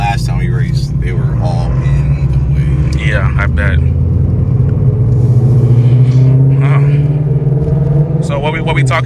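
Deep, steady rumble of a C6Z Corvette with an LSX engine, boost and a full tuned exhaust, idling loud and close throughout while people talk over it.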